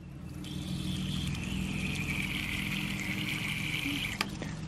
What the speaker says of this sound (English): I'm hearing the bubbles pop up there.